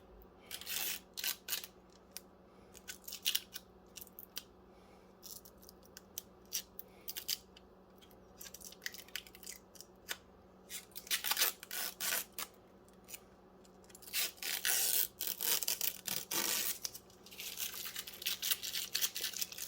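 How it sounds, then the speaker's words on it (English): Protective plastic film being peeled off a new computer part, likely a video card, during an EPYC server build: a string of crisp crackling and scratching bursts, sparse at first, then denser and louder toward the end, with no talking. "we're going to take the fancy plastic off of it"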